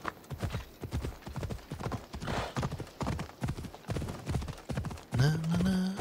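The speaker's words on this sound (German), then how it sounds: "Sandra, hol dir ein Pferd" Horse hooves clip-clop in a quick rhythm in the video game Assassin's Creed Odyssey, close and steady under game music, with a whinny rising near the end.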